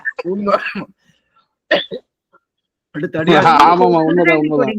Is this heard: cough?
yes